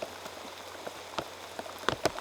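Rain falling on a disc golf course, scattered soft drops and taps landing near the listener at an irregular rhythm over a quiet background.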